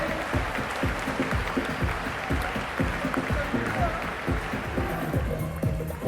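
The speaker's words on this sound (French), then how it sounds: "Applaudissements pour Super Gauthier" Spectators applaud at the French national climbing championship men's lead final. Scattered clapping runs under continuous commentary and rhythmic thumping, with a lively crowd atmosphere throughout.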